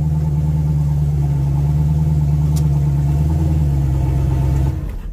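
A turbocharged LSX V8 swapped into a BMW runs at a steady, loud idle with a deep, even rumble, then the note drops away abruptly near the end, with no one talking.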